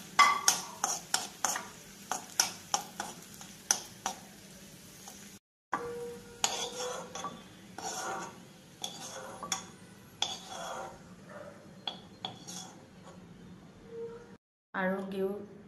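Nuts, pistachios and raisins are stirred in ghee in a metal pan for sooji halwa, with a rapid series of clinks and scrapes from the spoon, then softer intermittent stirring taps, quiet and close.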